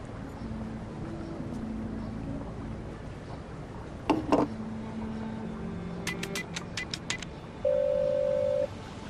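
A phone number is dialed in the Black Mirror 3 video game: a quick run of separate keypad tones, then a steady ringing tone, all over a low ambient hum.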